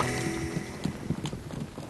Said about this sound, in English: Blood taken, the horses are turned loose.